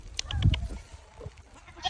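Goats bleating outdoors on a farm in a snowstorm, one fairly loud bleat near the start followed by fainter calls, with no talk.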